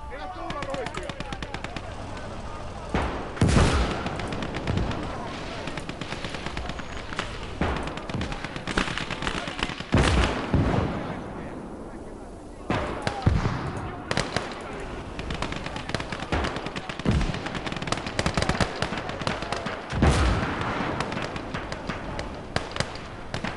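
Heavy gunfire and booming blasts from the Call to Arms: Gates of Hell war game, a big gun firing amid repeated loud explosions and crackling shots that fill the scene.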